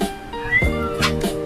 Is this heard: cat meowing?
yes